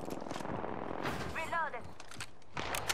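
Gunfire in the Halo video game: rapid, sharp shot bursts crackle in quick succession, broken briefly by a short voice line midway before more shots near the end.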